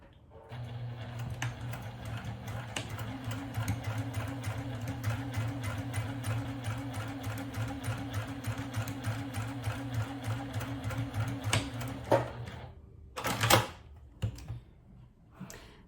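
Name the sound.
sewing machine stitching fabric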